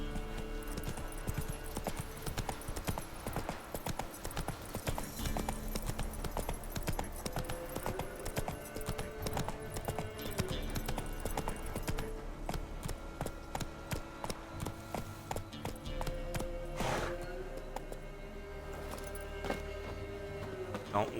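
Roach the horse clip-clops in The Witcher 3, her hooves a rapid steady beat of clear taps that runs the whole time, with a faint voice now and then.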